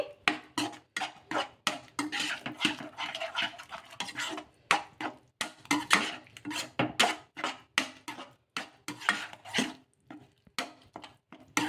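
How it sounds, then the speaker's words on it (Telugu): Semolina cooking in a pan is stirred vigorously, producing a rapid series of scraping, clacking strokes of a utensil against the metal, steady and close, with short pauses between bursts. "ఇంకా ఎక్కడ కూడా ఉండదనేది లేకుండా ఈ విధంగా బాగా కలిపేసుకోవాలి"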